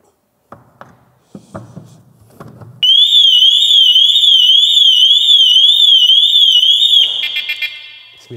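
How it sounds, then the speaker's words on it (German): A loud, piercing car alarm on a Mercedes G63 AMG W463 wails in a rapid up-and-down warble for several seconds after a few short clicks and knocks, then cuts off abruptly. "in dem Augenblick, wo ich schon den Blinker hochgenommen habe, haben wir einen Alarm geschmissen"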